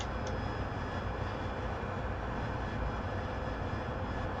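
AV-8B Harrier jet engine heard from inside the aircraft as power comes back, a steady, dense roar with no clear change over a few seconds.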